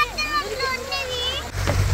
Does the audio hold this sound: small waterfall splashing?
yes